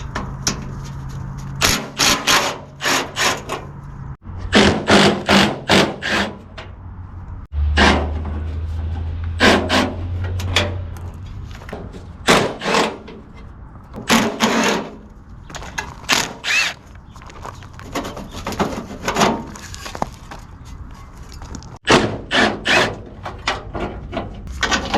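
Bolts being worked loose from the sheet-metal tin pieces around the hood of a 1946 John Deere BN tractor, with repeated bursts of ratcheting and metallic rubbing close by in quick clusters separated by short pauses.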